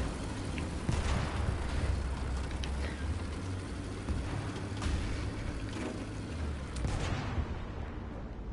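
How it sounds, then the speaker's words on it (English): An artillery strike in War Thunder, a dense rumbling barrage of overlapping booms and crackling detonations that continues steadily throughout. "Bam! Artillery strike!"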